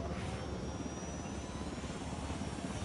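A helicopter in a PS4 video game, a quiet, steady rotor and engine wash that holds evenly throughout, fairly distant and without voices.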